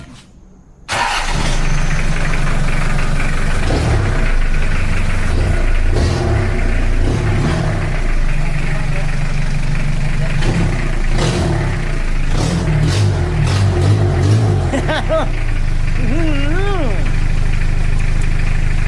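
A diesel engine on a homemade three-wheeled big bike cranks over after a short silence and settles into a loud, rough, steady idle close by, with people talking over it.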